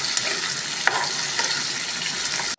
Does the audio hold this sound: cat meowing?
no